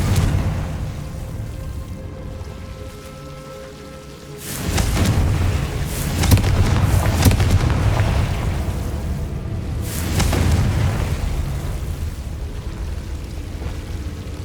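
Explosive spell blasts from the video game Hogwarts Legacy, two loud booming bursts several seconds apart over a low ambient rumble.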